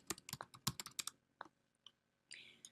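Quick bursts of keystrokes on a computer keyboard as a search is typed, close and quiet, with brief pauses between clusters of clicks.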